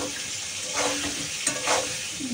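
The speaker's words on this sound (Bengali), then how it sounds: "আর পটল ভাজা তো বসিয়ে দিয়েছি দেখেছো।" Pointed gourd fries in a pan with a steady close sizzle, broken by a couple of louder scraping stirs, and there is no talking.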